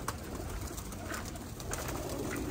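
Kept pigeons or doves coo softly and repeatedly, a close, low murmuring over faint background noise.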